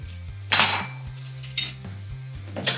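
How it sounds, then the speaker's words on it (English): Cut grape tomatoes tumble into a cooking pan for chicken meatballs, making three short clattering bursts with a clink of utensil on metal over a low steady hum. "you're gonna add all your cut up grape tomatoes, and you're gonna add those in there"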